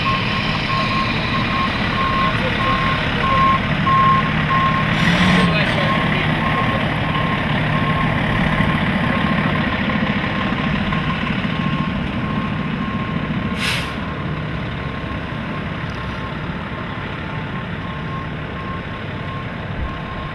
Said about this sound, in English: Engine 15 returns to the station from a local medical.